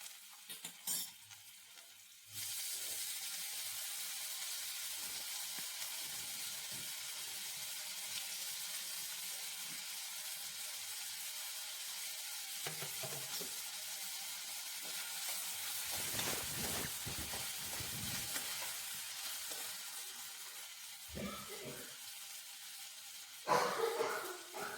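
Capsicum cooking in a pan for bread bhaji gives a steady sizzle with occasional stirring scrapes and brief clatters, close and continuous, with a short quieter moment at the start and a sharper knock near the end.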